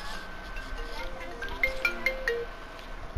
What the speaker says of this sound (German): Mein Handy. Meine Mama hat mich angerufen.